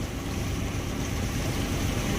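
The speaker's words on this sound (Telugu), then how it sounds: "ఈ బోట్ షికారు చాలా చాలా ఎక్సైట్మెంట్ గా ఉంది." A boat ride on the Patala Ganga at Srisailam in the early morning. A steady, loud motor drone blends with rushing water and wind noise, continuous and unbroken, with no talking.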